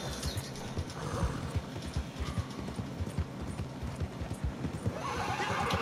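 Horse hooves clip-clop steadily in a video game while the animal whinnies, a bright neigh rising near the end over the continuous trotting rhythm, with faint game ambience beneath.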